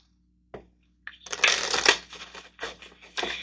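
Tarot cards are shuffled up close in several quick rustling, riffling bursts separated by short pauses, with no talking over them.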